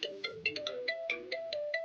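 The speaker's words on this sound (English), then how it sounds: "I'm gonna play the same ringtone for you" Phone ringtone played back: a quick, bouncy electronic melody of short bright notes in a steady rhythm, clear and moderately quiet, with no talking over it.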